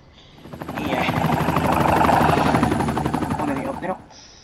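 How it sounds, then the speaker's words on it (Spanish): A helicopter flies over a city in the Cities: Skylines II city-building game, its rotor chop rising and fading across a few seconds with a dense, steady beat, fairly loud and close, with no speech over it. "un helicóptero."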